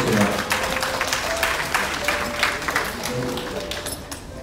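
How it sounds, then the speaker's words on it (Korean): Wedding guests at a reception in Gyeongnam applaud steadily, a dense, continuous clapping with a faint voice and room murmur underneath throughout. "다시 한번 힘찬 박수 부탁드리겠습니다."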